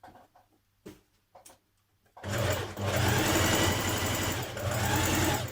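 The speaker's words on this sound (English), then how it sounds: "You're going to do 2 lines of stitching." A sewing machine runs a steady, fast line of stitching around the top of a sleeve for a New Look 6086 top, loud and close, after a few faint taps and handling noises.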